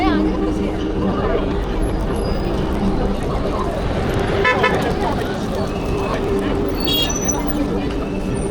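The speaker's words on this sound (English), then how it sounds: "naturally, that means traffic, a lot of traffic" Dense city traffic in Hangzhou, China, a steady roadway rumble with a few short car horn toots cutting through around the middle and near the end.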